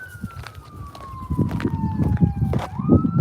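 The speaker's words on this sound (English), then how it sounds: "They just like using their sirens." Police sirens wail continuously during a SWAT lockdown in Patton, Pennsylvania, a steady falling tone that dips and rises again near the end, moderately close, over a busy rumble of wind and outdoor background noise.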